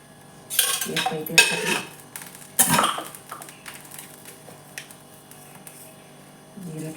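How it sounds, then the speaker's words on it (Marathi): Peanuts being stirred and roasted in a pan for Marathi-style baingan bharit, with a metal spatula scraping and clattering against the pan in several bursts over a low background hum. "शेंगदाणे टाकते हे चांगलं परतून घेते मी"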